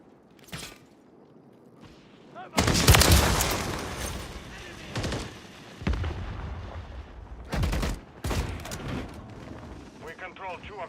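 Call of Duty multiplayer gunfire erupts in loud bursts of shots and booms, mixed with game voices and someone talking between the volleys.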